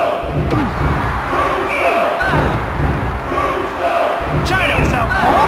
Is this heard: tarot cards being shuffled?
no